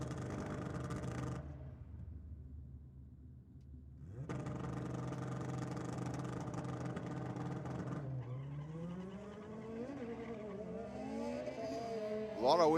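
A drag racing car waits in the Aeroflow lane at a Ford versus Holden theme night, its engine droning steadily at a distance. Pitch shifts and revs rise near the end, under faint commentary.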